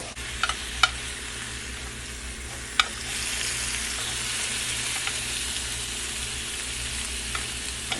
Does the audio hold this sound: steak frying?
yes